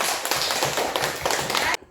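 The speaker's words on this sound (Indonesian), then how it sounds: "tepuk tangan buat Arman." Children in an Indonesian primary school science class clap together, a dense burst of quick hand claps that runs for under two seconds and then stops abruptly.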